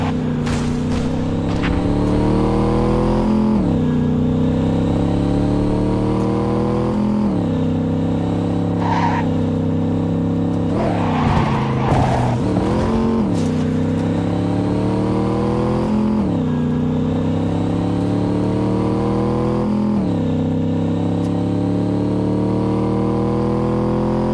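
A car engine in the Cyberpunk 2077 video game drives and revs loudly and steadily, rising and falling through gear changes, with a brief tire squeal midway.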